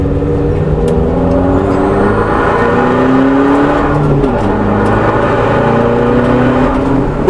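A 225bhp Honda Accord Tourer with an open differential accelerates hard on a race track, its engine droning loud and steady with pitch climbing through the gears, dipping briefly at a shift before rising again, no talk over it.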